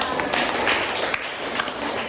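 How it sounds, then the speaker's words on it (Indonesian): Brief applause in a microteaching classroom session, a continuous patter of many hands at moderate loudness, with voices mixed in. "Tepuk tangan buat kita semua."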